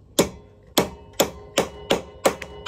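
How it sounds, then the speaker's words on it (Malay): A hammer taps a nut extractor down onto a damaged, loose nut, seven sharp metallic knocks in a steady rhythm, close and clear with no talking. "Lepas tu ambil tukul, ketuk sampai tenggelam nut yang loose tu."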